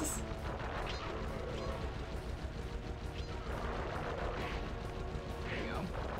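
Repeated gunfire in the Sly Cooper and the Thievius Raccoonus game, a rapid run of sharp shots and crashing bursts under a busy game soundtrack, with a person talking over it.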